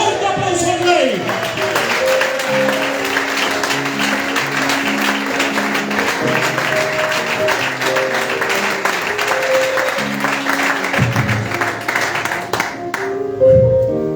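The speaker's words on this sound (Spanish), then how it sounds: "Fuerte aplauso al Rey." A church youth convention congregation applauds loudly in a hall. Sustained clapping runs under music and voices for the whole stretch.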